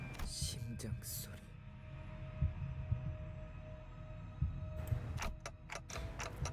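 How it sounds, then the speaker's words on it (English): Faint, steady heartbeat thumping at a low pitch in the Limbus Company game, a slow regular throb under a soft ambient hum, with brief brighter noises at the start and end. "멀지 않은 곳에서부터 고동 소리가 울리고 있잖아요"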